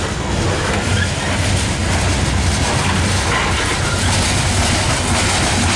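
A loaded CSX coal train climbs a grade behind ES44AH and ET44AH locomotives, producing a loud, continuous roar of engines mixed with rumbling wagons and rhythmic clickety-clack from the rails.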